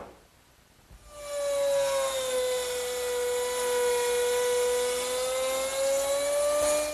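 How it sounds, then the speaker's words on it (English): A woodworking router fitted with a 1/4 inch round nose bit cutting a straight slot in a wooden shelf support, a steady loud high whine that starts abruptly and holds its pitch for several seconds. "The straight slot is made easily by doing a pass from each side using a 1/4 inch round nose bit."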